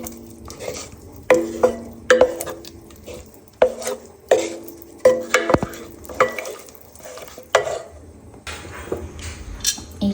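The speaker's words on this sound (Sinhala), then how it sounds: "දැන් සව් ටිකයි කුරක්කන් මිශ්‍රණයයි මේ වගේ හොඳට මිශ්‍ර කරගන්න ඕන." A spoon stirs a thick sago and finger millet (kurakkan) gruel mixture in a metal pot, with irregular scraping and clanking knocks against the pot sides, close and clear, no talking.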